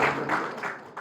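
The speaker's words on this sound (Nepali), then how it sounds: "ल ताली बजाइदिउँ।" Wedding guests clap in a short, close burst of hand claps, sustained and fairly steady for about a second, with no voices over it.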